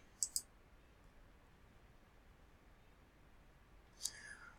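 A computer mouse clicks on an arrow of an online booking page, giving two quick, close, faint clicks near the start and another single click near the end over quiet room hiss.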